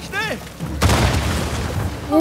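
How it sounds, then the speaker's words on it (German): Explosions erupt in the video game Uncharted 4, a broad booming blast that rolls on loudly for over a second after a brief voiced sound at the start. "Oh Gott, hier explodiert ja alles."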